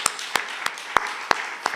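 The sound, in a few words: audience applause after a poem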